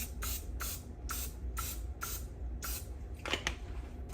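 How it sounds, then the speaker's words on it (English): Short bursts of cooking spray coat a baking pan for peppermint hot chocolate cookies, about seven quick hissing puffs in a steady rhythm, close and fairly quiet over a low background hum. "Grease the pan."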